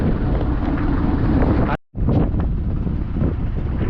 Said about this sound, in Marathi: भरपूर वारा आहे आणि लाटा बघा कसले येतात